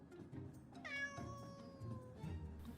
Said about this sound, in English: Why on earth have you brought that cat?